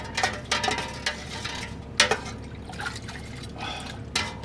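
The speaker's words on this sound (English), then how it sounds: "Now we're going to give this a stir and let everything incorporate." Apple pie moonshine mixture being stirred in a container, with soft liquid sloshes, drips and occasional clinks of the utensil against the side, faint and close, irregular and without speech.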